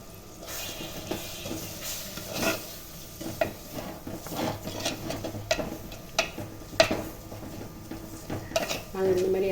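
Spices such as chili powder and turmeric are stirred into oil with softened tomato for a fish kuzhambu. A metal spoon clinks and scrapes the pan in irregular bursts over a soft, steady sizzle.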